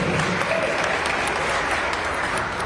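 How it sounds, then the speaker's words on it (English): Audience applause at a smoke-free anniversary press conference in Louisiana, a steady, dense wash of clapping from a crowd that fills the whole moment at even loudness. "That deserves a round of applause."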